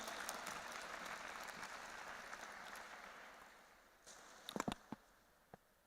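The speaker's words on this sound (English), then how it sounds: "Please put your hands together and welcome with a big round of applause, Madam Reema Parasarji." Applause from an audience welcoming a speaker at a media and communication school conference, a soft wash of distant clapping that fades out, followed by a few sharp close claps and taps.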